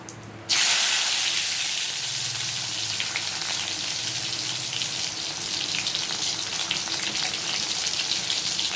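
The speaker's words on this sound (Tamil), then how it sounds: "சீரகம் பொரிஞ்ச உடனே சின்ன வெங்காயத்தை போட்டலாம்" Shallots dropped into hot oil with mustard seeds and cumin set off a sudden loud burst of frying that settles into a steady, close hiss.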